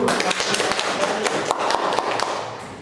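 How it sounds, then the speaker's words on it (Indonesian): A classroom audience claps briefly during a teaching session, a short burst of uneven clapping at moderate loudness, tapering off. "Kasih tepukan dulu."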